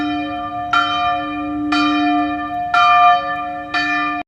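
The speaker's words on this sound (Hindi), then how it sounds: "मैं इस कमरे में बंद हूँ, घंटी बज रही है" A bell strikes four times at an even, steady pace, each ringing tone lingering and overlapping the next, loud and clear with no voices.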